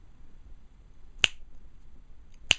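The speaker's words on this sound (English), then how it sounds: "As you can see, I'm snapping my finger right next to her head, and she's not setting off." Two sharp finger snaps, about a second apart, ring out right beside the head of a zombie girl prop, crisp and close against a quiet room.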